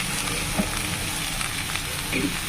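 Fenugreek greens land in a hot frying pan and sizzle with a steady, close crackle through the whole stretch, marked by a few brief soft thumps as the leaves settle.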